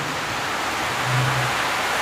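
Heavy rain falling noisily outdoors, a dense, continuous wash of hiss and patter that stays loud and steady throughout, with no voices.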